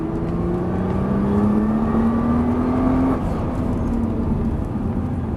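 Nissan GT-R accelerating on a track at Dreux: a sustained engine drone climbing steadily in pitch, then easing off, heard from inside or near the car over constant road and wind noise.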